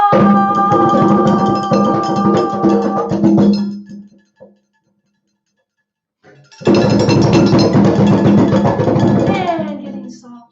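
A group of players drums a steady medium-volume rumble, with dense rapid hits in two sustained bursts separated by a few seconds of near silence.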